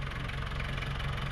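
Landtrac 450 tractor engine idling in a cornfield, a steady close mid-low rumble with even throb throughout, alone without voices.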